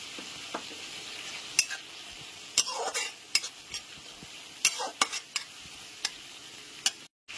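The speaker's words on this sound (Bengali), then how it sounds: "এরপর এর মধ্যে 3টে চিরা কাঁচা লঙ্কা দিয়ে দিচ্ছি" Three slit green chillies go into sizzling masala oil, bringing sharp crackles and spatula scrapes in uneven bursts over a soft, steady frying hiss, close by, with no speech.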